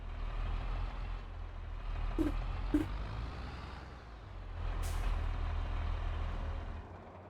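A truck in a driving video game idles and rumbles low and steady throughout, with two short hisses like air brakes releasing and a longer burst of air later.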